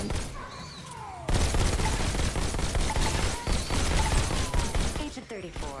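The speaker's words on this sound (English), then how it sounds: "I gotta kill a lot of robots for this, so we'll just shoot them." Rapid gunfire blasts at robots in Robo Recall, played in VR on an Oculus Rift, a loud, dense burst of shots and impacts following a quieter moment, continuing in clustered volleys to the end.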